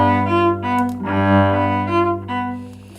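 A bowed string instrument plays a repeating pattern of three slurred notes followed by one separate note, with smooth, sustained tones close and clear and no voices.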